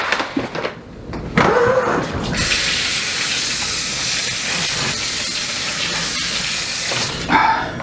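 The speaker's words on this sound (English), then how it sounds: "And then fill it with water." A steady, loud rush of water pouring into a pot, preceded by a few clattering knocks.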